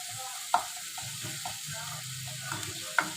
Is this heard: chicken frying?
yes